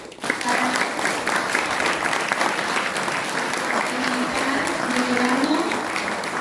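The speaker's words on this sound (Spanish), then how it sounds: "un aplauso para él" An audience at a Malvinas remembrance event applauds to welcome a speaker, with dense, steady clapping that runs throughout and a few faint voices mixed in.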